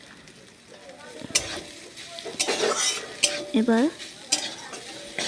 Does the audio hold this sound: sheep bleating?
no